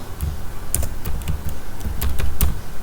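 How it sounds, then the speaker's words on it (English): Rapid, uneven keystrokes on a computer keyboard as a journal name is typed, close and clear, with a few sharper clacks mixed into the steady tapping. "Just type the name of your journal."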